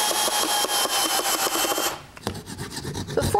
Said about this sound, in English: let me just attach this hinge with these screws